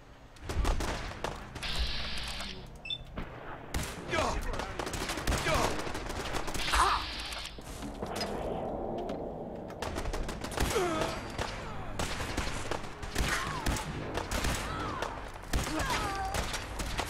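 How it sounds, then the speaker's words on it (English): Gunfire in a Fallout 4 firefight, bursts of shots arriving in clusters with thuds and pauses between them, fairly close, with in-game voices and effects woven through. "Stop shooting at me!"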